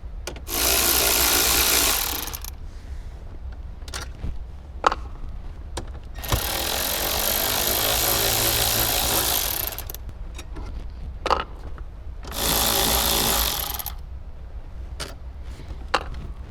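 A power tool removing the head unit bolts inside a Toyota Tacoma, three loud whirring bursts of a few seconds each separated by quieter pauses with small clicks, close and without talk.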